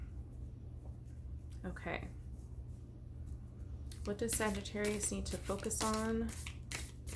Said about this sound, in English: I'm going to give it a shuffle